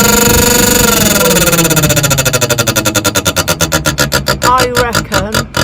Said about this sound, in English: the little propeller things are hitting that arm that is supposed to open the vent